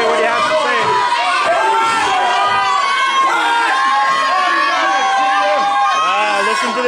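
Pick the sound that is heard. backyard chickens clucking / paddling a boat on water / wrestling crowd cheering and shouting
wrestling crowd cheering and shouting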